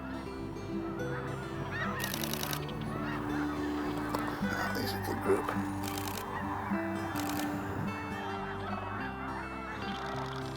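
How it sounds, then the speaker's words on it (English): Cranes call repeatedly in flight, loud honking cries overlapping from a group passing nearby outdoors, with camera shutter bursts clicking and someone speaking briefly. "Here comes the perfect crane, perfectly lit."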